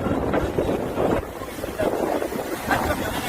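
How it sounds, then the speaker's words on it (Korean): Strong typhoon wind buffets the microphone on the Geomundo coast while waves crash and surge nearby, a loud continuous roar with gusty swells throughout. "바람이 바다에서는 파도가 세게 치고 있습니다."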